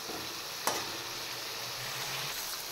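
Spice paste (masala) frying in a pan gives a steady, close, moderate sizzle, with one brief clink of a utensil near the start and no voices.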